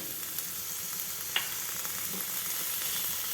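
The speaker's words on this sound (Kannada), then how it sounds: "ಈ ತರಕಾರಿಗಳನ್ನ ತುಪ್ಪದಲ್ಲಿ ಸ್ವಲ್ಪ ಬೇಯಿಸ್ಕೊಳ್ಳೋಣ" Vegetables frying in ghee in a pan for ragi soup, a steady soft sizzle with faint crackles and one brief tap, close and continuous with no voices.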